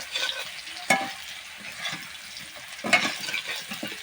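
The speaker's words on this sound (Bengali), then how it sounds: "আলুটা ভেজে নিচ্ছি লাল লাল করে" Potatoes frying in a pan, a soft sizzle with a few sharp bursts of crackling and stirring clatter, close and uneven in rhythm, no talk.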